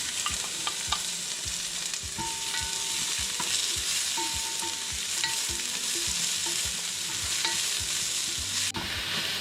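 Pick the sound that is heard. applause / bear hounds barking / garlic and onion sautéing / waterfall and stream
garlic and onion sautéing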